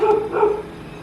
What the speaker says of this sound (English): Dogs, be quiet.